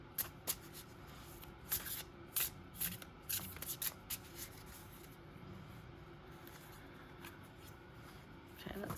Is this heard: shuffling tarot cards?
yes